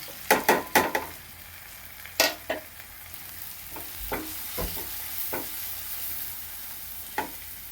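A spoon stirs coriander, chili, turmeric and masala powders in a hot pan, a series of sharp scraping clinks, dense at first then sparser, over a faint constant sizzle.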